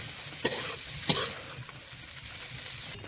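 Fresh shrimp frying and being stirred in a pan, a steady close sizzle with two sharp scraping strokes of the spatula early on, no talking.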